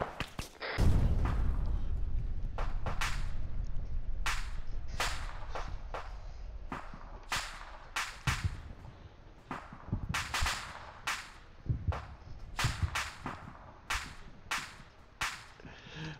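Repeated sharp cannon bursts from a Ural truck's autocannon in a military shooter game, loud at first and then spaced out as sporadic cracking shots with no voices.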